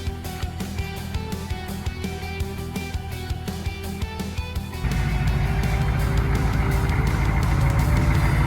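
A Chevrolet K5 Blazer with newly swapped leaf springs drives on a test ride. A steady engine drone and road rumble run throughout and grow noticeably heavier and louder partway through as it pulls away, with no talking.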